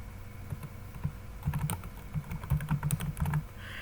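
Rapid keystrokes on a computer keyboard while entering data into a Microsoft Excel spreadsheet, a close, steady clatter of taps that thickens into dense bursts midway, with no voices.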